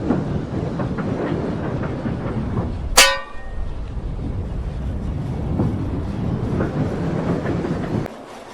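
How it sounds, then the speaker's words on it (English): Heavy train pulling away, a low continuous rumble and rolling clatter of railcars with a brief sharp horn toot partway through, then the noise drops slightly near the end. "Soon he was leaving and pulling away with his very heavy train."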